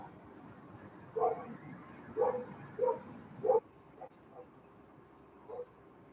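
A dog gives several short, sharp barks spaced about a second apart, followed by softer whimpers and yips, heard fairly close over low background noise.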